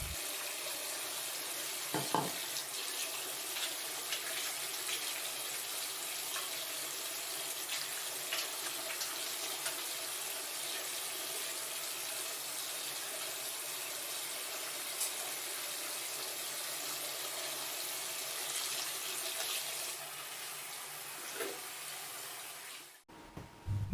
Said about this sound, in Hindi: किसी अच्छे साबुन से अपने हाथों को अच्छी तरह 20 सेकंड, कम अज़ कम 20 सेकंड तक अच्छी तरह धोएं